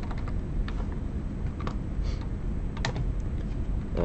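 Fingers tap quickly on a computer keyboard, a close, quiet run of light irregular key clicks against a low steady background hum.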